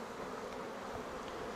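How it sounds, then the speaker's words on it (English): Honey bees swarm-buzz at an open hive being smoked and reassembled, a dense, steady drone that fills the space, close and continuous with no voices. "You can hear the tone of the bees change again."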